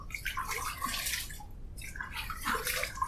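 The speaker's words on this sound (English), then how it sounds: "I'm going to wet my face just a little bit." Close water splashing at a sink as a face is wetted before a wet shave, two short bursts of trickling and dripping separated by a brief pause.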